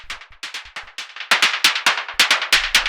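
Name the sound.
techno noise percussion through saturating pedal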